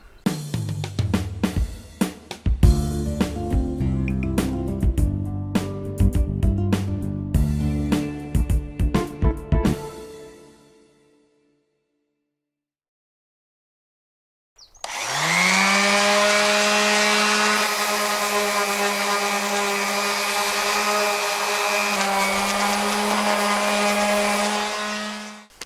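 A power sander rubs down the hull of a narrowboat, its steady, loud motor whine droning for about ten seconds after a stretch of busier, clattering sound and a brief silence.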